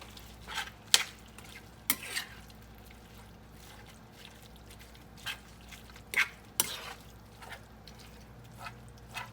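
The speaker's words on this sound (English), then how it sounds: "We got it cooking down. This big iron skillet is big enough for the 3 pounds of ground beef." Three pounds of ground beef cook in a big iron skillet, a soft continuous fry punctuated by sharp scrapes and clinks of a utensil stirring against the metal.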